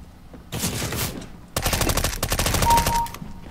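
Suppressed MP5SD submachine gun fire in CS:GO, a short burst followed by a longer rapid string of muffled shots, loud and close.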